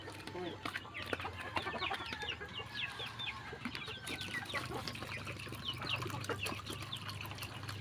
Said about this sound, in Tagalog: magpapalabas tayo ng 16 na pirasong manok galing sa kulungan